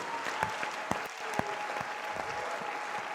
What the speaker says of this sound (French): Applaudis très bien le Seigneur des Seigneurs.